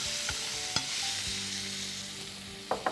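Tomatoes stirred into hot tempering oil in a pan, a steady sizzle broken by scraping spoon strokes and a few sharp clinks against the pan, with no voices.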